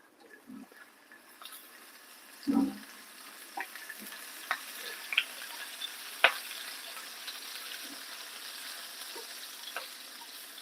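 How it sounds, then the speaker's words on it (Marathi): Cumin seeds and green chilies fry in hot oil for paneer bhurji, a soft, constant sizzle dotted with sharp pops and crackles and a louder spatter early on, close by with no voices. "इथे टाकायचं आपल्याला जिरं त्यानंतर टाकूया आपण हिरवी मिरची"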